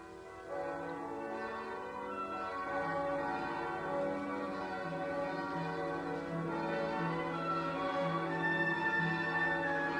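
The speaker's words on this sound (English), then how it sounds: "Bells." Several church bells ring together in a sustained, overlapping peal, moderately loud and resonant, with no voices.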